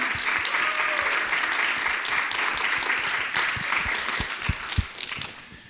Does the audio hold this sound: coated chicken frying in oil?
no